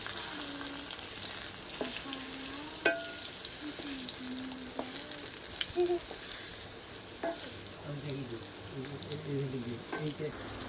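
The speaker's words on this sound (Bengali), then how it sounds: "আলুটা ভালো করে ভাজা করে নেবো এই এক পিস হয়ে গেছে আর এই পিস উল্টে দেবো ভালোভাবে লাল লাল করে ভেজে নেবো" Potato pieces fry in oil in a kadai, a steady sizzle under scattered stirring and scraping clicks, close and fairly even throughout.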